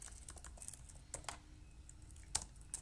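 Fast computer-keyboard typing during a Wireshark session: a run of light, close key taps with a few sharper, louder strikes, all quiet and steady, with no talking.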